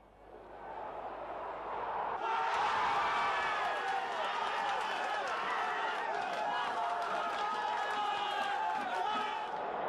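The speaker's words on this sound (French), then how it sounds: "Un ange passe au-dessus de San Siro qui applaudit des deux mains ce trait de génie des attaquants marseillais." Large San Siro stadium crowd roaring and applauding a goal at a 1991 Inter–Marseille football match, a sudden swell after two seconds into sustained, dense cheering and clapping that stays loud to the end.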